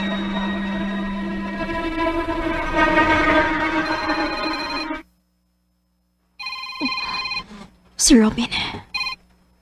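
A telephone rings in a dramatic scene, its repeated electronic trills mixing with music and voices, then pausing before a couple of short bursts return near the end.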